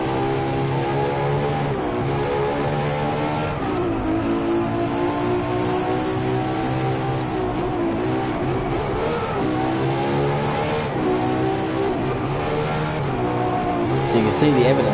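Racing cars in the Driveclub video game, including a Ferrari FXX, drive with steady engine drone and shifting revs, a continuous loud mechanical tone with a faint skid-like hiss underneath.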